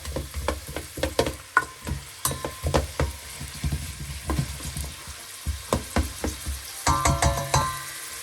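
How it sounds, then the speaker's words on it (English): Carrots, celery and onion sweating over a gentle flame in a pan, a close crackling sizzle with rhythmic stirring scrapes pulsing through, and no voices. "As you can see, it's sauteing beautifully, and even the sound is changing."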